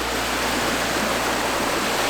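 A river cascade tumbling between autumn bracken-lined banks, a steady close broadband rush of falling water filling the whole moment without pause.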